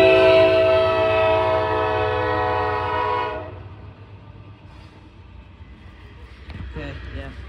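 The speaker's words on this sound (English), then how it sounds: "but this is an unowned coal train" An unowned coal train passes close by on a Norfolk Southern line, a loud horn blast holding steady for about three seconds before cutting off, leaving rumbling wagons and faint clatter with brief talk near the end.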